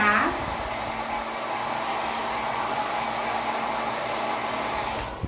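A hair dryer blows steadily and loudly, close by, drying stencil paint on a retro book holder, with a constant whooshing hum from start to finish that cuts off at the end.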